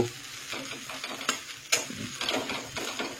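Spices tempering with onion in hot oil for a fried leftover rice dish, a busy close sizzle with scraping stirs and a couple of sharp clinks, no voices.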